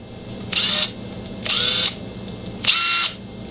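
A Makita cordless drill in hammer mode whirs in three short bursts, each under half a second, separated by brief pauses of quiet; close and loud.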